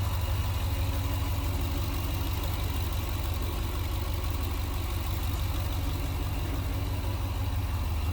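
A 2022 Jeep Grand Wagoneer Series III 4x4 with its 6.4-liter engine idling, a steady low rumble with constant even loudness throughout, close up and with no voices.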